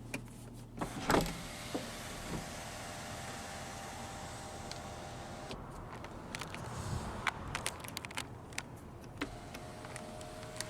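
The power sunroof motor of a 2014 Lexus ES 300h hums faintly and steadily inside the quiet cabin, with a few small clicks and ticks.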